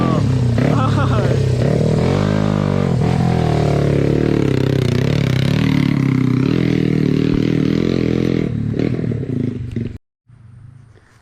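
A modified Honda CB100 motorcycle engine revs hard up close, roaring and rising in pitch through several throttle pulls before cutting off abruptly near the end.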